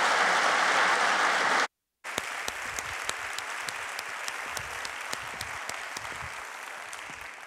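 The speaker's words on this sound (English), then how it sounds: "Let's give a round of applause to all of our Service Award recipients." A university State of the University address audience applauds for Service Award recipients; steady, dense clapping fills the room, briefly cut off by a short gap, then resumes continuously and fairly loud.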